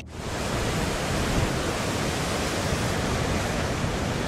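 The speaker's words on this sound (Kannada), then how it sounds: "ಭಾರೀ ಗಾತ್ರದ ಅಲೆಗಳು ದಡಕ್ಕೆ ಅಪ್ಪಳಿಸ್ತಿವೆ" Heavy sea waves pound the Arabian Sea shore of coastal Karnataka during a spell of very heavy rain, producing a loud, constant broadband roar of surf with no pauses or voices.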